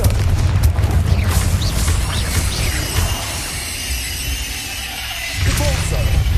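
Loud, booming blast from the Confringo spell in the Hogwarts Legacy video game, a dense roaring burst with a second boom near the end, set amid continuous game noise.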